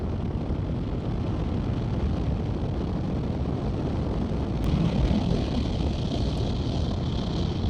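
A Suzuki V-Strom 1050 XT motorcycle cruising along an open road, its engine a steady low rumble buried under constant loud wind roar, with no break in the sound throughout.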